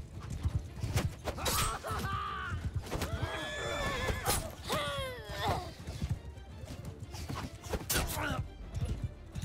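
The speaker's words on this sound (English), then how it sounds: "They have one horse archer left." Horse hooves clip-clop steadily through a battle in Mount & Blade II: Bannerlord, with several whinnies rising above the clatter and someone talking over the din.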